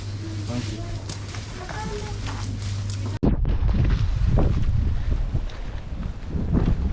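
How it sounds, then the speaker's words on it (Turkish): Steady wind buffets the microphone outdoors at a cove on the Marmara coast, roaring broadband and close, with a brief drop midway before the gusting resumes; voices are faint underneath. "Burası biraz rüzgarlı."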